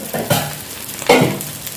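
Sardines wrapped in banana leaf fry in a pan with a close, crackling sizzle, marked by two brief bursts of louder spattering or shifting.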